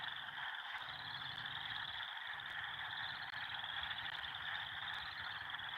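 Many frogs croak together at a frog concert in a loud, unbroken chorus of overlapping trills, steady throughout with no voices.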